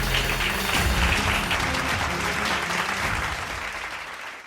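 A church congregation at a Sunday Tamil service bursts into loud, sustained applause, a dense wall of clapping that holds steady and then slowly thins toward the end.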